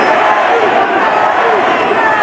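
Dense, steady roar of a large boxing crowd cheering inside the MGM Grand Garden Arena, loud and continuous throughout with no breaks, and a commentator talking over it.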